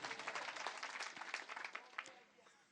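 An audience applauds at a Hindi kavi sammelan poetry gathering, with a fairly soft but dense burst of clapping that thins and fades toward the end, and voices murmuring underneath.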